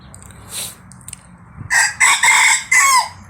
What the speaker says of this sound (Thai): ขันดีนะครับ